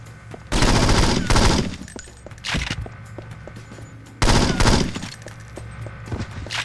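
P90 submachine gun fire in the PC version of 007 Nightfire, two loud sustained automatic bursts with scattered shorter shots and impacts between them, close and dominant, no voices.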